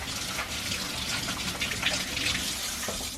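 Tap water runs steadily over raw pork chops being rinsed in a kitchen sink, a constant close splashing gush with faint knocks of meat against the basin and no talking.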